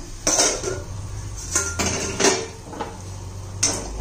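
A metal lid comes off a pan of cooking capsicum curry, giving a few sharp clanks and clinks of metal against metal, spaced irregularly and fairly close over a low kitchen hum.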